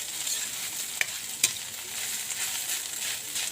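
Cooked labong, bamboo shoots, being stirred in a pan, a soft continuous sizzle with two sharp utensil clinks against the pan.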